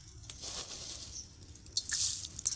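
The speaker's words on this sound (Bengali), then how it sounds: "চিড়াটাকে ভালোভাবে এক থেকে দুবার জল ঢেলে আমি ধুয়ে নিচ্ছি" Flattened rice (poha) being rinsed with water for a pulao: soft, close wet squishing and sloshing with a couple of brief splashy bursts near the end, quiet overall.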